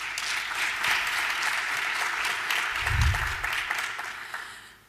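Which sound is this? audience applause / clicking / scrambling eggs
audience applause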